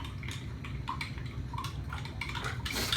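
Supplement drink being mixed in a container, with soft clinks and liquid swishing repeating at moderate loudness over a steady low rumble.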